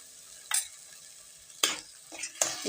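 Spice paste with turmeric and salt being stirred and fried in a pan for a Bengali egg curry; three separate scraping strokes over a faint, steady sizzle, fairly quiet and close, with no talking.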